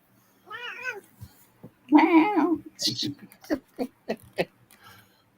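A house cat meows several times up close, with drawn-out rising and falling calls followed by shorter chirpy meows.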